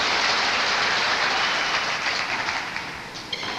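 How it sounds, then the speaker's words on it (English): Crowd at a 1981 Irish handball match cheering and applauding loudly in a sustained, dense roar that fades slightly toward the end. "the crowd loving every second of that, as you can"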